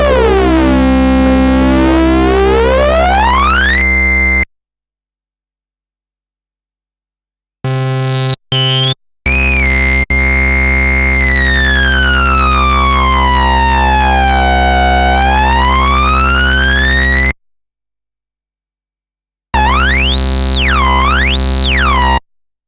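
Moog Sub 37 and Moog Voyager synthesizers playing raw oscillator tones, loud bright sweeping pitches that rise and fall, split into several bursts with silent gaps between them.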